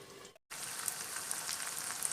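Chicken sukka fries in a pan over a low flame and gets stirred now and then, giving a steady close crackling sizzle with a brief gap near the start.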